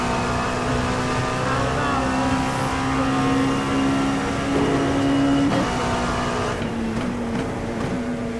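A simulated race car takes a lap of Monza in iRacing, its engine a continuous loud, high whine that holds steady and then shifts pitch as it revs and changes gear.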